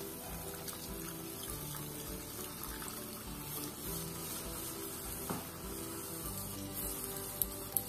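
A cup of water poured from a rinsed mixing jar into a cauliflower rezala gravy, giving a steady splashing, running pour that carries on for several seconds with no talk over it.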